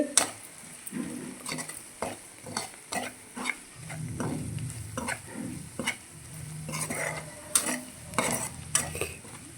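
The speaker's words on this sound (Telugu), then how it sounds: "ఇలా మంచి ఫ్రై కావాలన్నమాట మనకి చూసారా ఆయిల్ అంతా తేలింది మనకి" Malabar spinach frying in oil in a pan, with a stirring spoon scraping and clinking against the pan in irregular bursts over a low continuous sizzle, close up.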